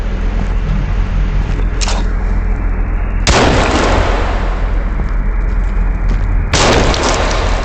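Gunfire in the video game Sons of the Forest, two loud sharp booming shots several seconds apart over a constant dense game background rumble.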